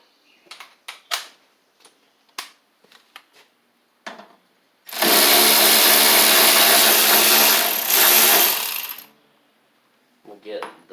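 Ratchet with a socket extension working starter nuts on a mower, scattered sharp clicks and taps, then a loud sustained whirring burst of several seconds before a few more quiet clicks.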